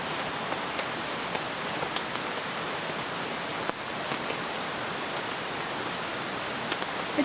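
Heavy rain falling on a camp in the woods, a constant dense hiss with scattered drops tapping close by, steady throughout and moderately quiet.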